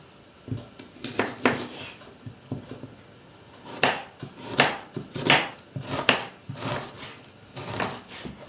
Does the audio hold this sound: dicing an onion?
yes